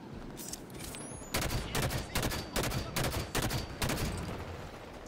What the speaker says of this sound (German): Ey, ich knall die mit meiner Waffe ab.